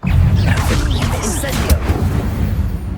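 A Stupefy spell fires during a Hogwarts Legacy combat encounter, a brief burst with a sharp crack near the middle, inside a dense, loud mix of booming impacts and rumbling battle effects.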